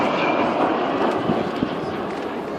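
Vulcan B2 bomber engines roar at an air show, a loud continuous broad jet rumble with a faint distant voice under it.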